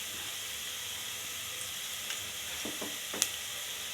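Ivy gourd palya frying in a pan with turmeric, a soft, continuous sizzle with a few scattered scrapes and clicks from stirring, fairly quiet and with no voices.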